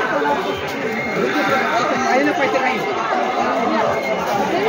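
A dense crowd chatters continuously at the Barashiv Hanuman temple yatra fair in Karanjala, with many overlapping voices close by at a steady, busy level.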